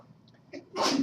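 A single sudden sneeze bursts out in a classroom during a math lesson, preceded by a faint intake of breath, loud and close against a quiet room.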